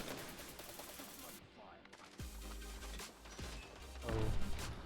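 Grenades burst in a shooter video game, a few heavy booms and gunfire-like cracks scattered through dense, loud game noise, with one louder blast near the end.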